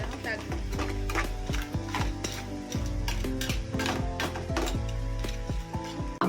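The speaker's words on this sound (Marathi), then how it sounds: "कुर्ल ह्याच कांद्या बरोबर सुमार एक 2 मिनिट भाजून घेऊया." About half a kilo of crabs frying with onions in a pan for a Konkani crab pickle, a steady close sizzle broken by repeated stirring scrapes and clatter throughout, with no talking.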